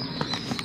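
Horse hooves clip-clopping on a muddy outdoor path, a few soft, irregular hoof strikes heard briefly against low background noise.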